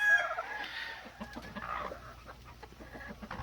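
Young gamefowl roosters cluck and attempt crowing, their calls faint and scattered, overlapping in a quiet yard with no voices.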